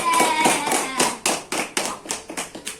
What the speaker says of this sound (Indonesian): Tepuk tangan Mbak Ziza.